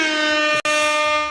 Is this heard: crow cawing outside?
no